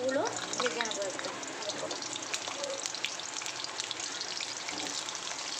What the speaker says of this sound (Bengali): এবার ওই তেলের মধ্যেই আমি পটলগুলো, আলুগুলো ভেজে নেবো একটু